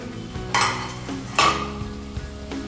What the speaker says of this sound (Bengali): এবার নাড়া দিয়ে দেখবো।